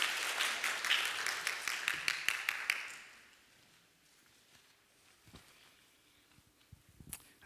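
A church congregation claps to welcome a speaker to the front during a Sunday service. Dense applause rings out for about three seconds, then thins to a few scattered claps and quiet room noise.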